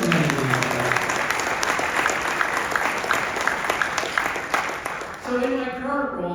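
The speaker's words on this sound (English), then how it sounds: "So let's give yourselves a round of applause for implementing these ideas" An audience gives a sustained round of applause after a speech, dense clapping at an even level before it fades and a voice resumes.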